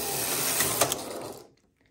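A knitting machine carriage sweeps across the needle bed while knitting a neckline, a close, brief rasping and whirring pass that stops abruptly into near silence.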